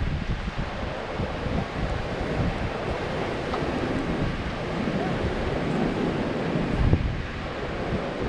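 Steady ocean surf rolling onto the coast at Rabat, Morocco, mixed with gusty wind buffeting the microphone, a continuous broadband wash with one louder surge near the end.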